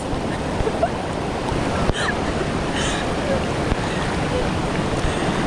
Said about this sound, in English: I almost went down the rapids.